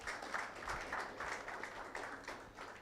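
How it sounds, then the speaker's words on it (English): Scattered, fairly quiet applause from a school audience for quiz contestants returning to their seats at a national investment quiz, steady broadband clapping across the whole stretch. "please clap for them while they sit"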